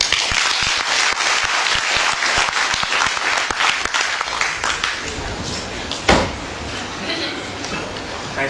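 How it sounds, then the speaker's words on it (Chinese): Applause from the audience at a Beijing crosstalk (xiangsheng) show: dense, loud clapping that fills most of the stretch, then thins out, with a single sharp knock partway through and a little chatter near the end. "翻转小篮，掌声起来"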